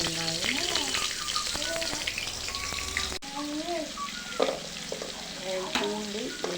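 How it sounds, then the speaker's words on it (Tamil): Shallots, garlic and ginger sauté in a hot kadai with a steady, close sizzle and intermittent stirring scrapes, while faint voices murmur in the background. "வெங்காயம் நல்லா வதங்கிடுச்சு."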